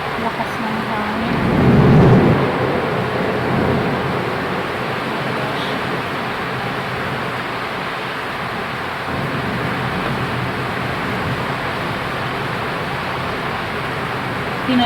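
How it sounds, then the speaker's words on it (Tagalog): Thunder rumbles during a strong windstorm with rain, a heavy low roll early on that fades into continuous rushing wind and rainfall noise. "Ang lakas ng thunder."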